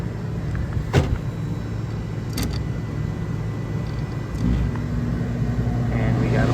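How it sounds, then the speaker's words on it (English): A Trane HVAC blower motor runs with a steady low hum and broadband whoosh, a couple of brief clicks near the start, and voices talking over it. "And we got a blower."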